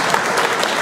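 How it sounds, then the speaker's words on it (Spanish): Audience applause at an astronomy talk, a dense, steady wash of many hands clapping throughout, fairly loud and close, with no voices over it. "un aplauso fuerte para nuestro querido"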